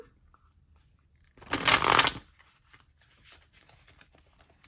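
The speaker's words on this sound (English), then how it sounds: "This deck is big as hell, so I'm going to shuffle off camera" A single brisk riffle of a large tarot deck being shuffled, a short papery burst, followed by a few soft taps and rustles in a quiet room.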